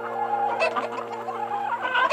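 Several cartoon chickens cluck in quick, overlapping bursts at close range, a busy farmyard chatter of clucks with no talking.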